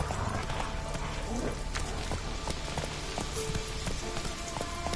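Roach, a horse in The Witcher 3, gallops with steady, close clip-clop hoofbeats over a continuous wash of rain-like ambience, with no voices present.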